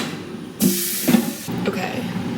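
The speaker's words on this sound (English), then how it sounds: "Okay, now we add the steak." A steak dropped into a hot pan sets off a sudden loud, close hiss that holds for about a second, then eases into a softer, steady sizzle with no voices over it.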